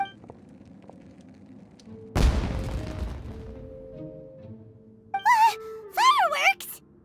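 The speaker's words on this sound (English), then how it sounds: "It sounded like fireworks." A single heavy boom bursts out partway through a Genshin Impact scene and rumbles down into a decaying tail, like a firework going off. Afterwards come short tonal chirps and swooping game effects.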